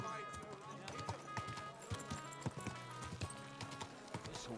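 Steady hoofbeats of a horse walking slowly in Kingdom Come: Deliverance II, a clear, even clip-clop rhythm close by, with faint music and a voice in the background.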